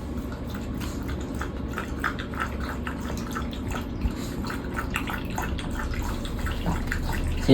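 Water is poured and splashed while a dog is bathed, with close, irregular splashes and drips running on continuously and no speech.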